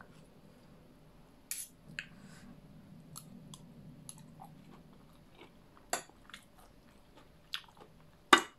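Close, quiet bites and crunchy chewing of a spicy Thai papaya salad with squid, a few sharp crisp crunches spaced irregularly over soft mouth sounds and faint background hum.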